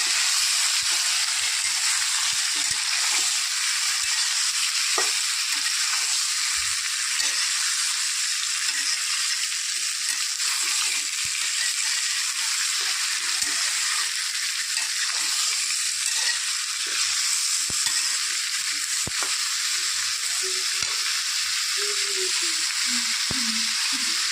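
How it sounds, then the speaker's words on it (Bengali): Chopped onions fry in a pan for a home-cooked vegetable and shrimp dish, giving a continuous close sizzle and hiss with occasional soft stirring scrapes and clinks. "পেঁয়াজ কুচিগুলো দিয়ে দেবো এখন। একটু ভেজে নেবো ভালো করে।"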